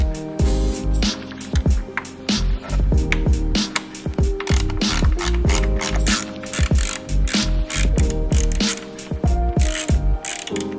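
A ratchet driver snugs small 3mm screws on an E-Ride Pro long seat kit, with rapid clicking bursts in repeated short runs, close and loud, and pauses between turns.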